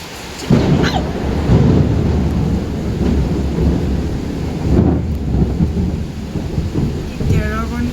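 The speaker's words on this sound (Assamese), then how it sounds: "বৰষুণৰ পূৰা চিটিকণি দিছে" Heavy rain pours steadily with deep rumbles of thunder rolling through, a loud crack near the middle, and a few faint chirps toward the end.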